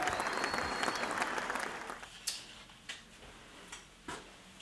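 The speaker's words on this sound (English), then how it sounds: "Hey, man, y'all give my nigga a round of applause, man." A short round of clapping, quiet and slightly distant, fades out within two seconds, followed by a few isolated sharp taps.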